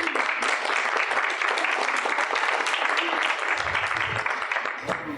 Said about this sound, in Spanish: a quien le brindamos un fuerte aplauso